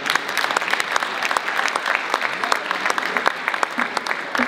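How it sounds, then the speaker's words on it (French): A full room of people applauds at an honoring ceremony, a dense continuous clatter of clapping hands, loud and even for several seconds with no break. "On l'applaudit tous, s'il vous plaît."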